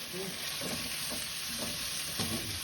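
Pork rind pieces stir-fried in a pan, giving a continuous close sizzle broken by four rhythmic scraping stirs of the spatula, with no voices.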